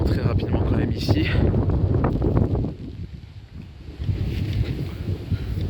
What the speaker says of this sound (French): j'ai peur que vous m'entendiez pas avec le vent